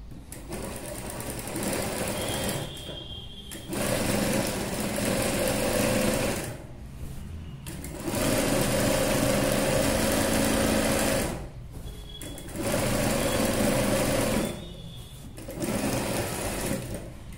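A sewing machine stitches a boat neck dress in bursts of rapid, steady whirring, running for a couple of seconds, pausing briefly, then starting again several times, close and loud with no talking.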